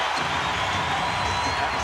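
An arena crowd roars steadily at a 1998 Chicago Bulls at Indiana Pacers NBA basketball game, a loud, continuous wash of cheering with no break.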